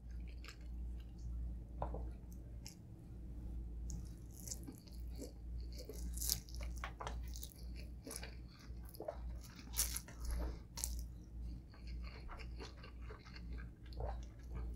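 Someone eats fried thin rice noodles alongside crispy pork belly roll, with close, wet chewing, squishy bites and occasional crunches repeating steadily over a low background hum, and no talking.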